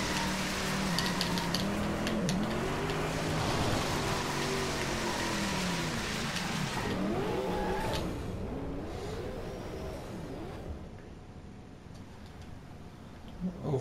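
A Hennessy Venom GT drifts in DRIVECLUB on the Goshodaira course in Japan, its engine note swooping up and down through the corner, then easing and fading toward a quieter close.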